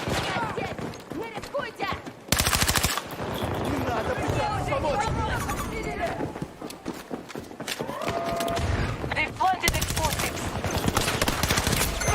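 Rapid gunfire and sniper shots in a video game crackle continuously, with a couple of louder bursts standing out, while a person talks over the action.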